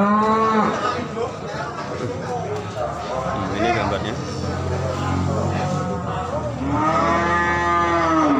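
Simmental cattle moo loudly and repeatedly at a livestock sale, long drawn-out calls at the start and end with noisy crowd chatter and talk throughout.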